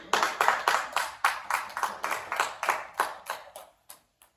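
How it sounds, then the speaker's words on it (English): Claps at a comedy show, a dozen or so sharp, evenly spaced close claps that fade and thin toward the end with no voices. "let's give a big round of applause again to Natalie and John LaPlante"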